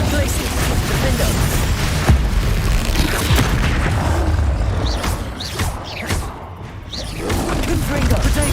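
Confringo fire spell blasts in Hogwarts Legacy, deep booming bursts rolling over a dense, continuous wash of game noise, with a voice talking throughout.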